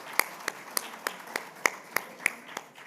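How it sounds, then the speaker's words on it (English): A small group of people clap at an evening community forum, giving about ten spaced, slightly irregular claps, moderately close with no voices. "Let's give these people a hand of applause"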